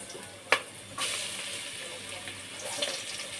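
Garlic sizzling as it is sautéed in a pan for afritada, a sharp clatter as it drops in followed by a steady close frying hiss.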